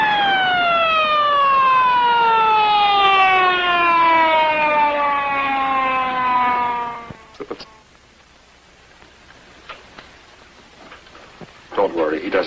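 An ambulance siren wails loud and close in a long descending tone that fades out after about seven seconds, leaving faint scattered noises behind.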